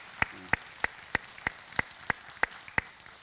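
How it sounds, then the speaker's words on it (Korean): Slow, evenly spaced hand claps from a church congregation welcoming newcomers during a Sunday morning service, about ten sharp claps in a steady rhythm with no talking over them. "박수하겠습니다"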